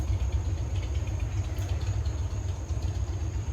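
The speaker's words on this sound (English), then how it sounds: "It's a motorcycle." A Harley-Davidson motorcycle engine idles with a steady low rumble and chugging pulses, moderately close and unaccompanied by voices.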